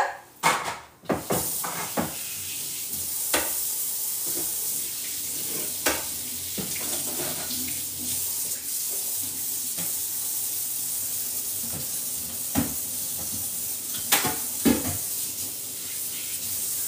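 Rice being washed with hot water while cooking rice with chicken, a steady wet sizzling wash with faint pouring and stirring, and scattered clicks and knocks throughout.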